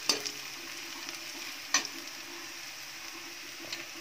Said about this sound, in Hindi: ये प्याज हमारा भून चला है, भून गया है